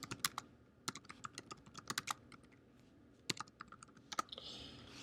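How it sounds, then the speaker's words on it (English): Computer keyboard typing in a quiet room, a series of crisp, close key clicks in irregular bursts with short pauses between. "I typed letter M, now I just have to hit return."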